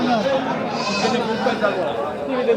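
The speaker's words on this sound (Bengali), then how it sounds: "এই পাশে ভেড়া, এই ভেড়া," Several sheep bleat repeatedly at a busy Bagerhat cattle market, their wavering cries close and overlapping amid a steady murmur of crowd chatter and talking voices.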